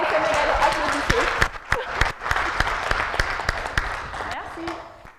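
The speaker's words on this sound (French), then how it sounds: "Alors, les Sénégalais, applaudissez." An audience applauds, a dense round of clapping with some louder individual claps, gradually thinning out over several seconds, with voices faintly audible underneath.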